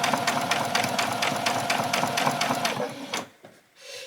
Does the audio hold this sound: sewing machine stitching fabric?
yes